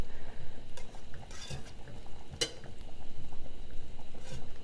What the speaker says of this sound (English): I'm going to kind of whisk it in